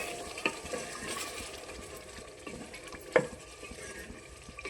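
A spoon stirs chickpea curry (chhole) in a cooking pan, giving soft scraping and a sharp clink near the end over a low, steady sizzle, close up and quiet, with no talking.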